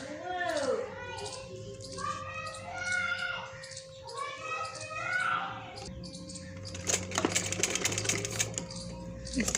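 A sewing machine stitches lace onto a baby dress sewn from leftover fabric, its steady rattling run taking over in the second half after a stretch of voices and other sounds.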